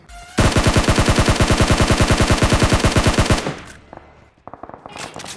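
Rapid automatic gunfire in PUBG Mobile, a loud, tightly spaced burst of about three seconds, followed by quieter scattered shots and rattling after it stops.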